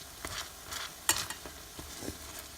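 Banana fritters fry in a pan with a soft, steady sizzle, broken by a few sharp clicks and scrapes of a utensil up close.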